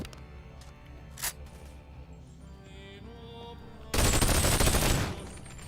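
Two guns fire in the VR video game Boneworks: a single shot rings out early, then about a second later a dense, loud rapid burst of gunfire follows. There is no talk.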